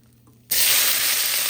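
Onions hitting hot oil in a pan just after rohu fish was fried, a sudden loud sizzle that bursts in after a quiet moment and holds as a dense, steady hiss.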